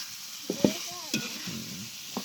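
Meat stir-fries in a home pan, with a steady sizzle under scraping stirs and a few sharp clinks of the spatula against the metal. The sound stays close and moderately loud, and nobody talks.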